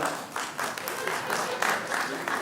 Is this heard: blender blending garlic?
no